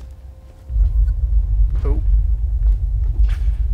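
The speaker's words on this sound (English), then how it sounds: "The sound of those earthquakes marks my drills getting closer and closer to the vault." Deep earthquake rumble in Borderlands 2 as drilling nears the vault, a low continuous shaking that swells after a moment and persists, with a brief spoken exclamation over it.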